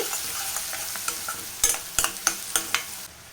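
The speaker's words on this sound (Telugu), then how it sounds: "పచ్చిమిర్చి ఆనియన్ లైట్ బ్రౌన్ కలర్ వచ్చేంత వరకు అయితే ఫ్రై చేసుకోవాలి" Onion and green chillies fry in a pan for an egg dum biryani, a soft continuous sizzle broken in the second half by a run of sharp, rhythmic stirring scrapes.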